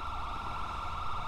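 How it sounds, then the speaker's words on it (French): A police siren from the video game GTA LSPDFR wails continuously and steadily over a low background rumble, with no talking. "ils ont toujours leur sirène allumée"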